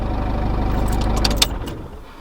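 A Peugeot 107 small petrol car engine runs at a steady idle up close after starting, its low even putter holding firm before a few brief clicks and a fade near the end.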